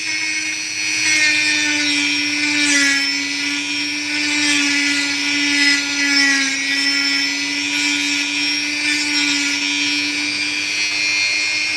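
A rotary power tool grinds a sand layer off an opal in a loud, sustained, steady high-pitched whine that wavers slightly in pitch, close up and with no voices.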